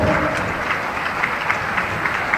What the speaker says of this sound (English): We have a round of applause for our judge this afternoon